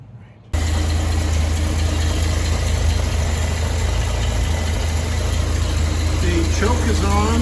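A Dodge Power Wagon with a Weber two-barrel carburetor starts cold on choke and settles into a loud, steady, rumbling idle close by, with no one talking over it.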